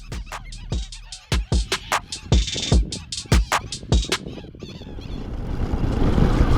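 Birds chatter and squawk in quick bursts at the ruins of an ancient desert fortress in Uzbekistan, loud and close, with a rising windy rush toward the end.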